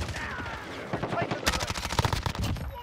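A rapid burst of MP5 submachine gun fire in Call of Duty: Modern Warfare, close and loud, firing a steady string of quick shots with a short break midway, while someone talks over it.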